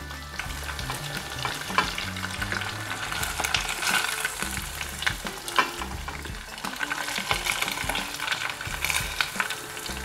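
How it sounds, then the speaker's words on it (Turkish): Food frying in oil in a pan on a home stove, a steady crackling sizzle with occasional stirring scrapes, moderately close and uninterrupted by voices. "İyi oldu böyle kızartma yapma."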